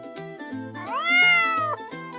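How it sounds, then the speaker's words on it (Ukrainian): A cat gives a single clear, drawn-out meow that rises and falls, heard up close over light, steady musical backing. "Це котик. Він каже мяу, мяу."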